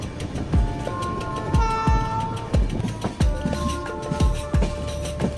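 A passenger train from Kolkata to Prayagraj rolls across the Yamuna river bridge, with heavy rhythmic clunks of wheels over rail joints repeating under a continuous rumble, heard close from inside the carriage.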